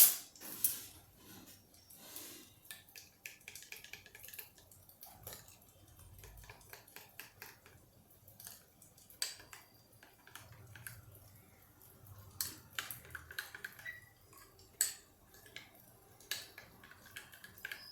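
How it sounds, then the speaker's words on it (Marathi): Peanut chutney made with crushed roasted peanuts being beaten in a bowl, giving irregular clinking, scraping and squishy stirring knocks at close range with no talk over them. "आता पण हे चांगलं फेटून घेऊया"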